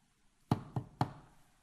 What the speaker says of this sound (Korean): 마리아의 집에 와서 문을 두드렸습니다